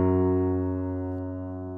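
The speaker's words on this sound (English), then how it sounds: "If we play this interval of an octave on a piano" Two piano notes an octave apart are struck together and ring out as a single sustained chord, fading slowly and cleanly with no other sound.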